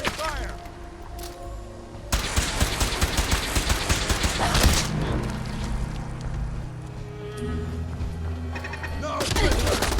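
Rapid bursts of gunfire crack out in Fallout 4, dense volleys of sharp shots with a few pauses, loud and close, while voices speak over the shooting.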